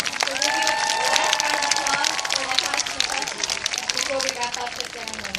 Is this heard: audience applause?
yes